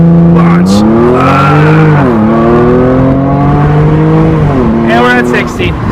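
A tuned 400 HP Audi S5 accelerating hard under launch control, the engine loud and close inside the cabin, its pitch climbing through each gear with clear drops at the shifts and a voice speaking briefly.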